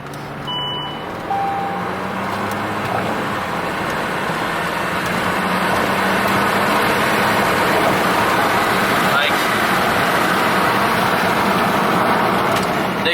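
A Saab car engine accelerating hard, a loud sustained drone that builds and holds as the car pulls, heard from inside with a voice briefly over it.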